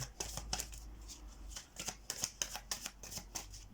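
Tarot cards shuffled close up in a quiet setting, making a steady run of crisp papery flicks and riffles at a brisk, fairly regular pace, with no voice over them.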